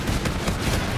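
Continuous gunfire from a gun in the Call of Duty: Infinite Warfare multiplayer video game, a dense, steady rattle of overlapping shots that stays loud throughout with no pauses.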